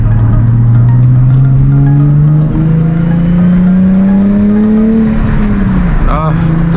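A Nissan 370Z with a new ISR Y-pipe and single-exit exhaust drones steadily and loud, its pitch slowly climbing as it revs, with a brief tire-like squeal near the end.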